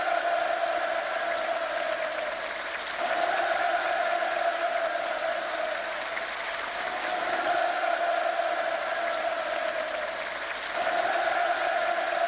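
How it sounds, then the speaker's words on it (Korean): A theatre audience and performers give sustained, loud cheering and applause at a state performance in Pyongyang, a dense steady roar of clapping and shouting that swells and dips slightly throughout with no clear speech. "전체 출연자들과 관람자들은 열광의 환호를"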